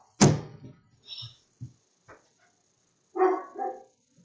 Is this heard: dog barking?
yes